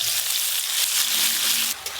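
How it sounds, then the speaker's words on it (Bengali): Chopped onions fry in hot oil in a kitchen pan, a steady close sizzle with a light crackle that drops off briefly near the end. "পেঁয়াজ কুচিগুলো খুব ভালো করে ভাজা করব"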